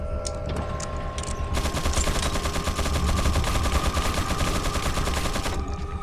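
A minigun in Resident Evil 4 fires in a sustained, rapid, dense burst that starts after about a second and a half and runs loud and continuous almost to the end, over steady game background noise.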